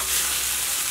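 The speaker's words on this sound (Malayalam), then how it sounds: "നന്നായിട്ടൊന്ന് മിക്സ് ചെയ്യും" Cooked rice tossed with capsicum in a hot pan gives a short, steady burst of close sizzling with faint stirring scrapes, and no voices.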